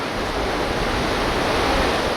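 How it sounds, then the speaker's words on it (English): A small but powerful waterfall near the north side of the Eiger roars close by, a continuous loud rush of falling water filling the air without a break. "I just found a little waterfall that's pretty powerful"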